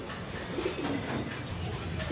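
Pigeons in a pigeon loft give a few soft, low coos, faint and close against a steady background hum, with no talking.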